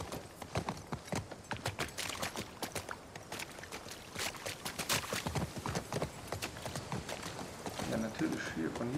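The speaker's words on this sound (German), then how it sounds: "Du reitest auf einem Pferd." Rhythmic clip-clop of horse hooves in the video game The Last of Us Part II, game-like and steady, runs throughout while people talk over it.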